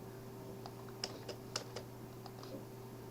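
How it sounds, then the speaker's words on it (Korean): Computer keyboard keys pressed while drawing lines in AutoCAD: about half a dozen light, separate clicks spaced unevenly over a few seconds against a faint steady hum, with nobody speaking. "스페이스바 눌러서 명령 종료, 다시 한번 스페이스바 눌러서 반복 실행"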